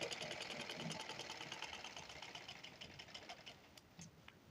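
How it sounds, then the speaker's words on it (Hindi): A sewing machine runs a straight seam on a lined blouse, its quick even stitching chatter steady and fairly close, with a slight slowdown near the end; no talking. "अब यहाँ पर भी एक बूट की सिलाई हमें लगानी है सीधी।"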